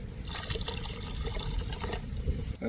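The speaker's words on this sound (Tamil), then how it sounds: "இப்போ தேவையான அளவு தண்ணி ஊற்றிக்கலாம்." Water poured into a fish curry gravy being cooked with tamarind water, heard as a steady close trickle and splash that runs for a couple of seconds, with no talking.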